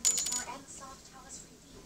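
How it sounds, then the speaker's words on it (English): Beads rattle and drop in a quick, bright clatter at the start, then fade into faint, scattered ticks in a quiet room. "I hear a bead sound"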